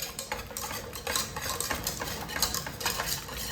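Butter being stirred into a wine sauce in a pan off the heat, quiet repeated scraping and swishing strokes with a light metallic clink against the pan, soft and close.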